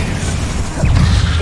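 Confringo fire spell in Hogwarts Legacy, a short burst of crackling, whooshing magic impact that swells near the end over a low, rumbling game-combat background.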